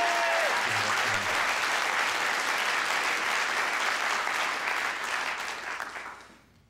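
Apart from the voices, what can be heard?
audience applause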